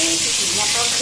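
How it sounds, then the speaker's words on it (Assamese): Fish head frying in a pan, a loud, steady close-up sizzle with bright hissing crackle throughout a brief moment, with a faint voice beneath. "এয়া মাছৰ মাথা ভাজা"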